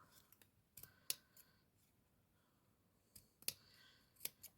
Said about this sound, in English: Cut that bit of excess off.